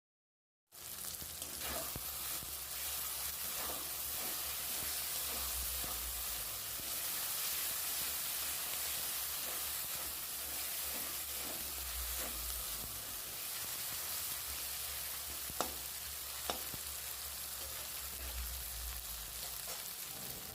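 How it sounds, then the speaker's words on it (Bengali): Spice masala sizzles and fries steadily in hot oil in a pan while cooking chicken and green pea ghugni, a continuous close crackle with faint stirring clicks and no talk. "এবার মশলার উপর তেল ছেড়ে দিয়েছে,"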